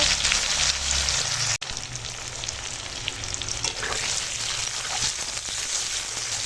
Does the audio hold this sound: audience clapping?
no